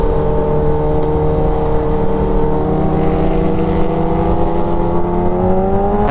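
A supercharged Kawasaki Ninja H2R accelerates on the road, a loud, steady engine whine with layered tones that climb in pitch toward the end.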